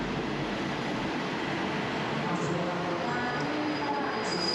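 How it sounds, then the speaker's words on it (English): A train pulls into a station on the main line in Thailand, a steady broad rumble and hiss of the moving cars throughout, with faint tonal squeals toward the end. "There's the train just pulling in now."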